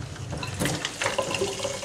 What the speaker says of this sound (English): Fill it up with tap water,